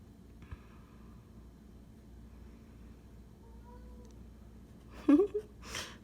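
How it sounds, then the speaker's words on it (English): A pet cat lets out a short, fairly loud meow, followed by a second quieter cry, near the end of an otherwise quiet, low-humming room. "Sorry about my cat's noises, if you can hear them."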